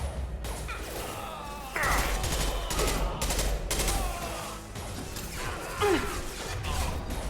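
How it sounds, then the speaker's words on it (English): Gunfire in the Mass Effect 2 video game, with repeated bursts of automatic fire and crashing impacts running through the whole stretch and a heavy low rumble beneath. "I'm taking fire."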